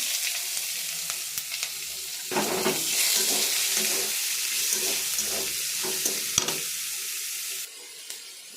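Onions frying in a little oil for a potato and teasel gourd dish, a steady broadband sizzle with scattered stirring clicks and scrapes, close and fairly loud, louder in the middle before easing near the end; no talking.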